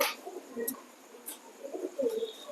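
Soft pigeon coos come in short bursts, fairly close, alongside faint rustles in a quiet space.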